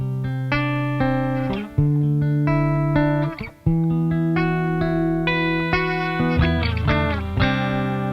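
Electric guitar played on its bridge pickup, a bright, clean run of chords and single notes with steady sustain, close and clear with no voices.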